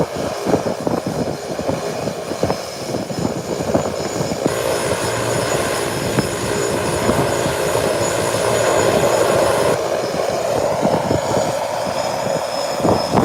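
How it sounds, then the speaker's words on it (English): A Beechcraft 1900 turboprop taxis down an airport runway, a steady mid-distance engine roar with a brief rise in whine partway through, heard alone without voices. "on the Beechcraft 1900. It's now heading down the runway, heading to make its 180-degree turn for takeoff."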